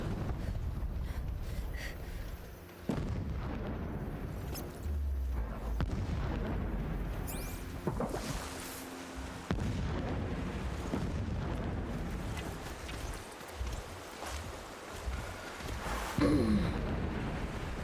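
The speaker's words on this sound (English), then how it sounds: "Explosions in the distance." Deep, rumbling explosions in the video game Horizon Zero Dawn Remastered roll in repeatedly from afar, low and muffled, forming a continuous distant barrage with occasional sharper hits.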